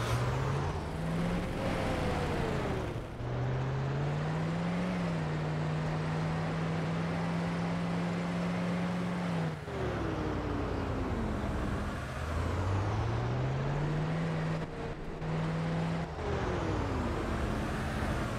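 A truck engine drives in the video game DayZ, a steady low drone with rising and falling gear-change pitch sweeps and a brief hiss, continuous and fairly close.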